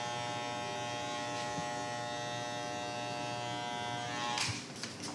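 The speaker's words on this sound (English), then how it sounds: "I like to do all my clipper work before I get into any shear work" Electric hair clippers buzz steadily while trimming a man's beard line in a barbershop. The hum is even and close at moderate volume, with a few brief scrapes near the end and no talking.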